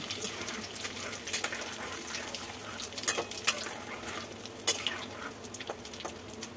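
Chicken balls deep-fry in hot oil, a quiet bubbling sizzle broken by sharp scrapes and clinks of a utensil turning them.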